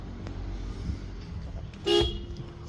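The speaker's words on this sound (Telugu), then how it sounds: "horn working" A parked pre-owned car in Bengaluru gives one short, loud honk of its horn near the end, over a low steady background hum.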